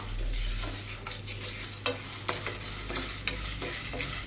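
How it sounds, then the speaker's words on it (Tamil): Chana dal dry-roasting in a kadai with no oil for idli podi, stirred with a spoon that gives repeated scraping clicks over a soft, steady background hum. No one speaks. "கடலைப்பருப்பை கடாயில் சேர்த்துக்கிறாங்க எண்ணெய்லாம் எதுவும் சேர்க்காம அப்படியே வெறும் கடாயிலே சேர்த்து நல்லா வறுத்து எடுத்துக்கலாம்"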